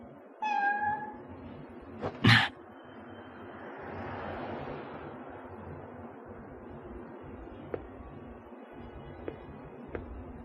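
A cat gives a short meow near the start, then a sharper louder cry about two seconds in, followed by quiet ambience with a few faint clicks.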